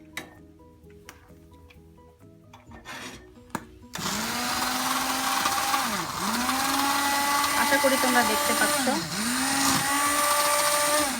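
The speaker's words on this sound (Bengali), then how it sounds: "এবং এই যে ব্লেন্ডারটা এই গরমা গরম অবস্থায়" A blender froths hot coffee just taken off the boil. After a few words from a speaker and some light handling taps, a loud, steady motor whir starts midway and continues up close, its pitch dipping briefly every few seconds.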